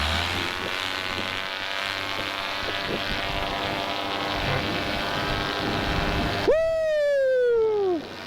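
A paramotor engine runs steadily and loud during a first-flight launch on a Dudek Nucleon 4 wing, a droning harmonic hum that rises sharply in pitch near the end as the throttle opens.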